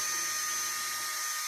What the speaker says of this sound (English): This is a typhoon burr. I'm going to get that in. I'm going to turn that on, and I'm doing full speed with my grinder.